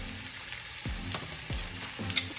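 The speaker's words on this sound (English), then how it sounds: "Give this a quick stir." Tomato paste is stirred in a hot pan with a steady sizzle and a few distinct scraping strokes of the spoon across the pan, close and moderately quiet; no talk.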